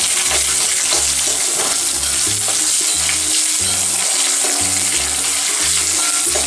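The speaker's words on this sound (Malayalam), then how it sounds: "ചെറിയ ഉള്ളിയും മുളകും എല്ലാം കൂടി ഒന്ന് നല്ല മൂപ്പ് വരും, നല്ല സ്മെല്ല് വരും." Small shallots and chilies sizzling in hot oil in a pan for a Kerala-style crab curry, a loud steady crackling fry with rhythmic low scraping of stirring throughout.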